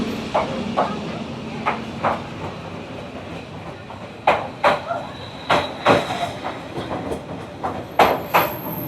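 A train rushes past very close and loud on Hanoi's Train Street at night, its wheels clacking in a steady rhythm over the rails.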